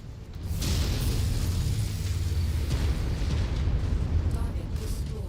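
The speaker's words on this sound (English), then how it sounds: "I need to get away from these artillery cannons." Heavy artillery cannon blasts in the mech combat video game MechWarrior 5 make a continuous loud rumbling barrage of booms that runs through the whole stretch.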